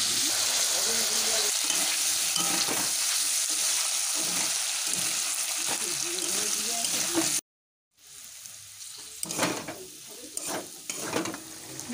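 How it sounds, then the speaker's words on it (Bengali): Diced potatoes fry and sear in a pan, with a steady close sizzle and intermittent stirring scrapes. After a brief silent break, quieter frying continues with occasional clinks and a voice talking. "আলুটাকে বেশ কিছুক্ষণ ধরে কষিয়ে নেব"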